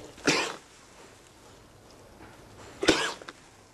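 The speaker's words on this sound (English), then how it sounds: "try to induce cough by squeezing and shaking the calf's trachea" A calf coughs twice when its windpipe is squeezed and shaken during a respiratory health check, two short harsh bursts separated by a few seconds of quiet.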